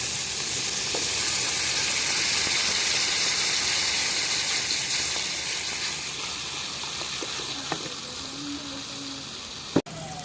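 Steady loud sizzling hiss of water poured onto fried spice paste with Kashmiri chilli powder in a pan for a pangas fish curry, a continuous frying roar that slowly eases, with faint clicks and a sharp knock near the end.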